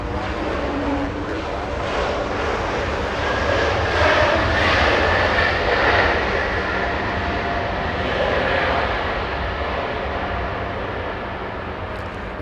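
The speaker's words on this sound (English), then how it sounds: "Next arrival, next inbound, we have Delta 1203 flying in from San Francisco." A year-old Delta Airbus A220 jet arriving from San Francisco at Los Angeles International Airport, a loud, steady broadband engine roar that swells slightly mid-pass and eases off, with no talk over it.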